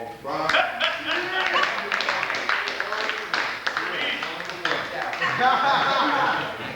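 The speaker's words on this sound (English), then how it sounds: "Give another big round of applause." Audience applause at a jazz and poetry event at Augsburg in 1999: dense, steady clapping runs through the whole stretch with loud cheering and voices mixed in, close and full.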